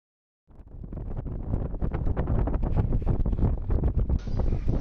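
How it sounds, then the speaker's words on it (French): A strong afternoon wind sweeps the high mountain landscape of Sud Lipez: after a brief silence, loud gusting roars and buffets the microphone continuously, with irregular surging bursts. "le vent soit très fort cet après-midi"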